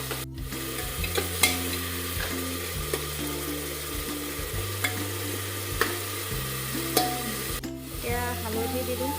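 Ginger garlic paste and salt frying with goat meat in a pan, a loud continuous sizzle with stirring scrapes, alone without talk, a low hum steady underneath.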